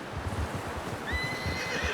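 A horse in the video game Red Dead Redemption 2 gives a loud, close whinny over a steady low rumble and rhythmic hoof clip-clop, with no speech.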